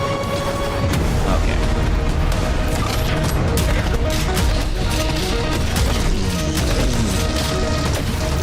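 Sniper fire and explosions crash and boom through a dense, loud video game battle, the shots blending into constant rumbling combat noise with voices mixed in underneath.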